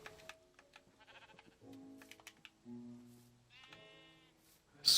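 Several sheep bleat in Minecraft, their short wavering cries coming one after another alongside soft in-game clicks and footsteps, close and fairly clear.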